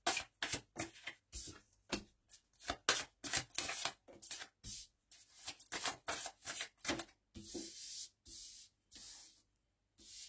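Tarot cards being shuffled by hand for a reading, a long run of crisp riffling bursts and soft slaps in an uneven rhythm, close and clear in a quiet room with no talking.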